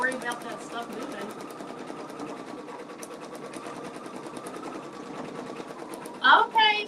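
An embroidery machine runs a basting stitch on a beanie, a fast rhythmic needle chatter close by that keeps going for several seconds before a voice cuts in near the end.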